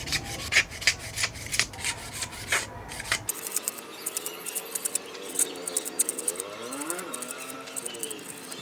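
Blade shaving a bamboo kite stick, close rhythmic scraping strokes, coarse at first, then lighter rasping repeated at an even pace.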